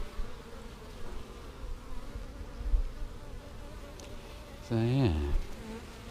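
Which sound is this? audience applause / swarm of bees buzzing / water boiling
swarm of bees buzzing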